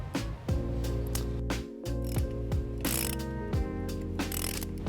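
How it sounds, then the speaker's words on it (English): A ratchet fitted with a 12mm socket removes the positive battery terminal nut on a 2018 Nissan Sentra, clicking in close, repeated bursts of pawl ratcheting with brief pauses between strokes. "Now we're going to take a 12mm socket and remove the positive terminal nut."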